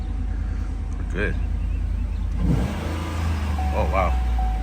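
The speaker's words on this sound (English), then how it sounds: "see if you can hear the intake, the rumble" A 2015 Cadillac Escalade with the 6.2 engine and a Banks cold air intake revs hard over a steady low rumble, with a couple of rising throttle blips close by while people speak over it.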